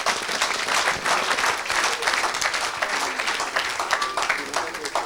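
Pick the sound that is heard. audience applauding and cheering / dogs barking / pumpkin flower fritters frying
audience applauding and cheering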